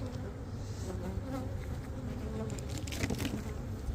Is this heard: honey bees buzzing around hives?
yes